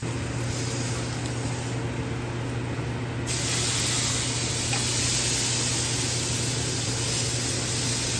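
Steady hiss of New York strip and filet steaks sizzling on a grill, continuous and fairly loud, with the noise stepping up and brightening partway through.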